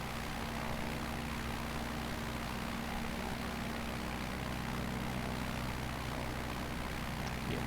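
A simulated aircraft climbing out in Microsoft Flight Simulator produces a continuous engine drone with steady low tones under broadband rushing noise, holding at one level throughout with no speech.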